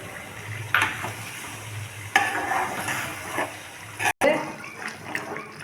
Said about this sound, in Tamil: இது புளி கரைசல் போட்டுக்கலாம்.